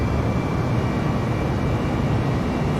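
Engines of an Airbus A320neo roar steadily on takeoff from Auckland in Microsoft Flight Simulator, a loud, dense, unbroken rumble with a faint high whine above it, with no talking.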